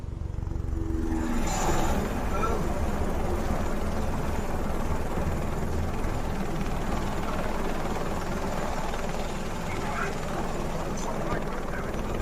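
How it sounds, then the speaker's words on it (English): A helicopter's steady engine and rotor roar mixes with passing car noise, loud and continuous throughout. "Cars? Helicopter?"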